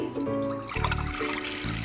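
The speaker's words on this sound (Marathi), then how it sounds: "आणि मग त्याच्यात मी 1-2 कप पाणी टाकणार आहे." Water is poured into a pressure cooker of cooked ragda, a short pouring and trickling burst that lasts under two seconds, close by with no talk.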